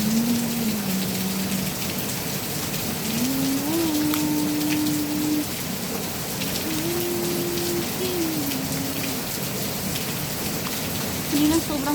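Heavy rain pours down in a dense, steady hiss that stays constant throughout, with a faint voice-like tone drifting in at times.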